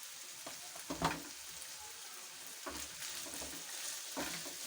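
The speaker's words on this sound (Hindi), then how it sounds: "इन मसालों को भी अच्छे तरीके से इनके साथ फ्राई कर लेंगे।" Spices with crushed red chilli, salt and garam masala fry in a pan for a chicken paratha, a soft continuous sizzle broken by occasional stirring scrapes, fairly quiet.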